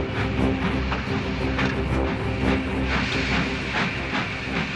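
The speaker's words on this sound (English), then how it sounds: "as his wheels slipped on the icy rails" Steam engine Henry straining with a train of vans on icy rails, giving a continuous loud hiss of steam and rumbling with rhythmic chuffing pulses as the wheels slip.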